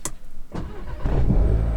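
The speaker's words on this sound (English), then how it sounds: "the car's pretty much started up" Audi A3 engine cranking and catching after the keyless start button is pressed, a short click first, then a low burst that settles into a steady close idle rumble.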